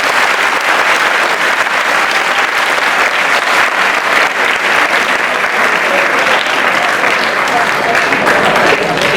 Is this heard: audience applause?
yes